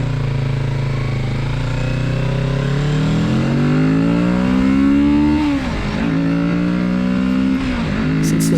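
A 2024 Kawasaki Z650RS motorcycle revs up near the microphone, its engine tone climbing steadily, dropping briefly, then rising again in a second and third blip, with no talking.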